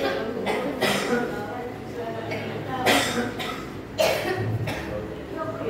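Coughing and throat clearing from the audience at an Islamic prayer-guidance study session during the cough season, several sharp bursts scattered under ongoing talk in a roomy hall.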